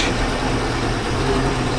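A 1999 Chaparral 1930 SS boat engine idles close by, a steady low rumble that holds even and unbroken for the whole short stretch, with no voices over it.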